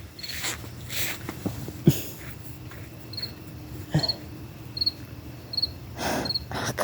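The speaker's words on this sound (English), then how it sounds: "Except for that one cricket." A single cricket chirps in short repeated bursts at night, moderately close and fairly faint, with scattered soft rustles and small knocks around it and no talking.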